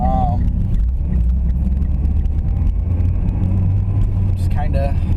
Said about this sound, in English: Just kind of driving around at this point, enjoying the day.